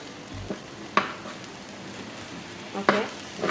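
Chili powder and chicken masala frying in a pan, a soft steady sizzle broken by a few sharp stirring scrapes, close up with no talk.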